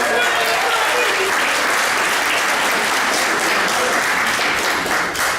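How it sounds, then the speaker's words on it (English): Loud, full applause from a crowd at a Black History Month gathering in the California Hotel, continuous and dense, with some voices mixed in. "Let's give her a nice round of applause, y'all."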